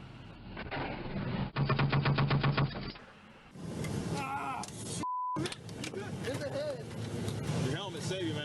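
Rapid machine-gun bursts from a war film scene, a fast regular rattle of shots mixed with engine noise, beeps and shouting voices, fairly loud under a dense soundtrack.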